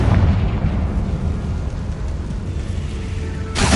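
A Confringo spell explodes in Hogwarts Legacy, a loud, rumbling fiery blast that roars through the whole moment before a fresh burst hits at the end.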